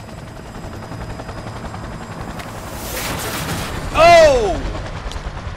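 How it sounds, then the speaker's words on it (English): A helicopter and gunfire in the video game Cyberpunk 2077: a steady rotor drone under bursts of shots, rising to a loud, sweeping whine and crash near the end, with a voice crying out. "That chopper's going down!"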